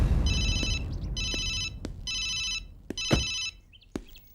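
A telephone rings in four regular electronic bursts, each about a second long with short gaps, with a few sharp knocks in between and no talking.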